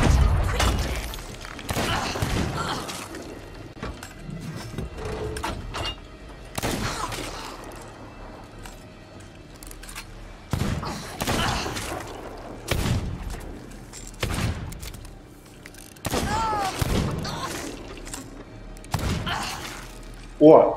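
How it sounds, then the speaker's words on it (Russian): Pistol fire in a first-person video game comes as a run of sharp, loud bursts with thuds and crashes, spaced irregularly through the passage while someone talks over them. "Я из пистолета ее вполне неплохо расстреливаю."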